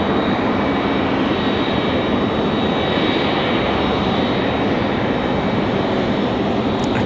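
A UPS Airbus A300 jet airliner at Raleigh-Durham airport produces a loud, steady broadband engine roar that holds constant throughout, with no talk.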